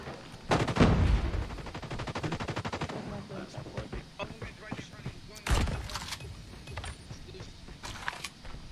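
Rapid gunfire bursts in a Call of Duty Mobile ranked search-and-destroy match, shotgun blasts and clattering shots near and loud, with a person talking between them.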